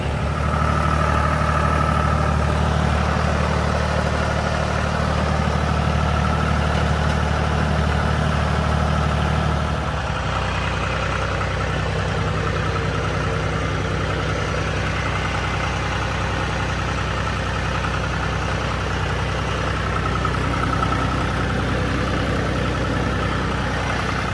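A tractor carrying a ladder idles nearby with a steady, low rumbling drone that continues evenly throughout, its tone shifting slightly partway through.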